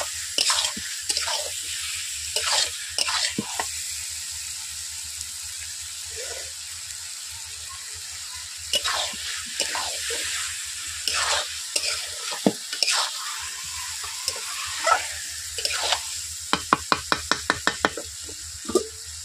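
Chicken pieces stir-fried in a hot pan for a Bengali village-style korma: steady sizzling under repeated scrapes and knocks of the spatula, with a quick rattling run of strokes near the end; no talking.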